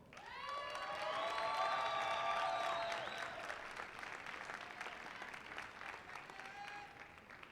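Audience at a graduate commencement ceremony breaking into applause and cheering, a dense roar of clapping with whoops that swells, then thins into scattered claps, with faint voices underneath.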